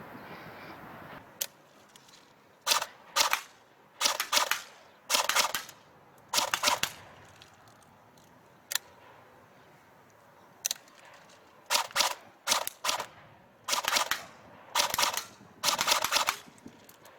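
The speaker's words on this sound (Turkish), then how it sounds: "Bir iki de normal atış deneyelim." A CYMA AKMS full-metal airsoft electric gun with a wooden stock fires single shots, its sharp snapping cracks sounding close and loud, one at a time or in quick pairs and triplets separated by pauses.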